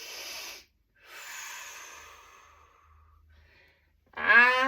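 During a stretching exercise, slow deep breaths come close and clear: a long exhale, a pause, another drawn-out breath, then a sharp noisy inhale at the end; no talking.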